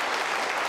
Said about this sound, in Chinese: 大家掌声鼓励一下